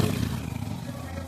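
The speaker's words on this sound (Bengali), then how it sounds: "একটা বাইক আসছে।" A motorbike passes along a quiet, empty road, its engine a low rumble sustained across the moment, with a voice talking over it.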